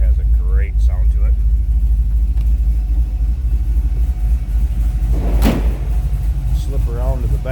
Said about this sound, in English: Listen to this thing rumble. This car has a great sound to it.